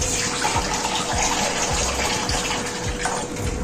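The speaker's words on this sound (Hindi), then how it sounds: "अब इस पॉइंट पे इसमें पानी डालेंगे बस।" Water pours steadily into a cooking pot of ojri, a continuous close gushing splash that runs alone without pause.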